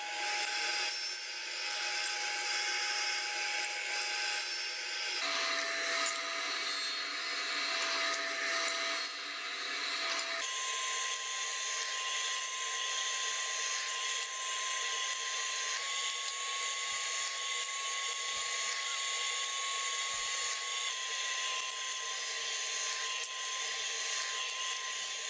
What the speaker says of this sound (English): Once I get all the grooves cut on all the pieces, I'll bump the fence over and I'll keep making test cuts